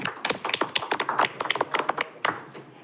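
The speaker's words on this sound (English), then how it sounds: "So if we give them a round of applause" A small group at a neighborhood advisory committee meeting gives a brief, scattered round of applause, the quick uneven claps close and lively with no talking.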